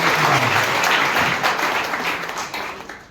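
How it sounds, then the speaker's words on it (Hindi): A crowd at a car achievers' celebration event in Sambhajinagar applauds loudly and steadily, dense clapping that tapers slightly toward the end. "तो एक बार आपके जोरदार ताली में आपका स्वागत करता हूँ।"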